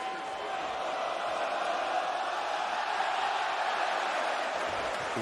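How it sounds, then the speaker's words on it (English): A wrestling arena crowd roars steadily throughout, a dense, sustained wall of cheering and shouting with no clear breaks, loud and enveloping as if heard from inside the venue. "Listen to this crowd."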